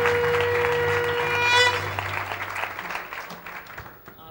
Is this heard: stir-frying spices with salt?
no